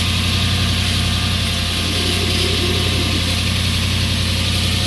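A Toyota V8 fitted into a GAZ Sobol 4x4 idles steadily just after its first start, a loud, even, continuous engine drone close by with no talk.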